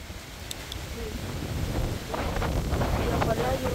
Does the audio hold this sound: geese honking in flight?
no